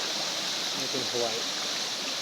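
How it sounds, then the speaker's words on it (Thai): Forest stream flowing between mountain cliffs, a steady broadband wash of running water that holds close and even throughout, with a voice briefly speaking over it in the middle. "นี่เป็นห้วย"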